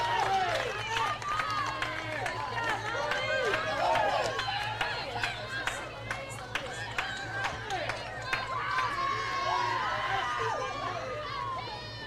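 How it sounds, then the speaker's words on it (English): Crowd and dugout at a college softball game between Milligan University and Reinhardt University in Waleska, Georgia, cheering and shouting in a sustained, lively roar with overlapping voices under a commentator's talk. "The dugout and the crowd all fired up about that."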